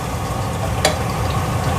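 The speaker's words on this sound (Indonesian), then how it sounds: "Terus paling gampang itu gorengnya pakai teflon ya, biar nggak remuk." Fish fries in oil in a Teflon pan in a home kitchen, giving a steady close sizzle with one brief sharp crackle, and nobody talks.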